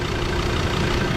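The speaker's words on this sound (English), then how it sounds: "Best thing I ever got, this compressor." A portable air compressor runs on a road trip along the Kimberley's Gibb River Road: a steady, loud engine-like drone with a low throb, close by and alone.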